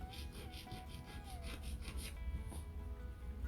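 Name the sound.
filing the side of a gel stiletto nail with a fine file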